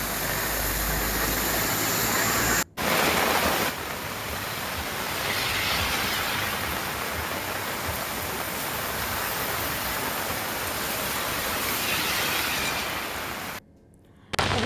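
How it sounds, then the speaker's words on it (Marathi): Heavy rain and floodwater in Nashik, a dense, steady broadband rush like pouring water that runs unbroken apart from two brief dropouts. "सकाळपासूनच शहरासह जिल्ह्यात अनेक ठिकाणी मुसळधार पाऊस होतोय"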